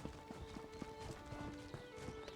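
Hooves clip-clop rapidly as a horse gallops in The Elder Scrolls Online, a quick regular beat of game sound effects at moderate level, with game music and ambience underneath.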